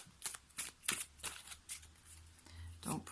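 Oracle cards are shuffled by hand in a rapid series of soft riffling and sliding bursts, close and fairly quiet, while someone talks over them.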